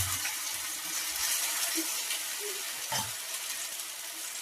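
Handvo batter poured into hot oil with sesame seeds and curry leaves, making a steady, dense sizzle and crackle close by, with a brief bubbling splash near the middle.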